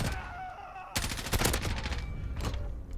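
Rapid bursts of M4A1 assault rifle fire in Modern Warfare ring out loudly from about one second on, with a short pause before another volley near the end; faint game ambience precedes the first shots.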